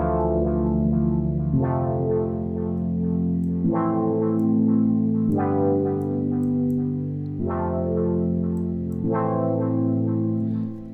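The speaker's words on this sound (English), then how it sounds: "that nice little attack modulation at the start of the key sound is then delayed" Sustained synth chords play in a steady pattern, each new chord starting with a bright attack that repeats and trails off through a delay effect.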